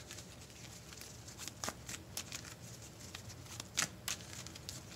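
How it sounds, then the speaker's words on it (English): Playing cards riffled and slid into a deck during a tabletop card game, heard as faint, quick papery flutters and soft taps up close in a quiet room. "Need to shuffle this in."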